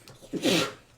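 A single short sneeze, close and fairly quiet, with a breathy intake just before it.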